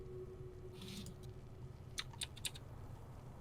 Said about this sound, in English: I really thought I heard keyboard typing